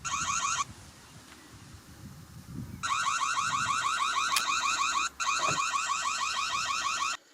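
A Reolink Argus 3 Pro wireless security camera's shrill warbling electronic alarm sounds in rapid pulses, stops for about two seconds leaving room noise, then returns loudly before cutting off.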